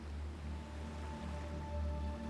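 Ocean waves in open water during a WWII sea episode, a steady low rolling wash and churn that holds close and fairly loud throughout, with no voices.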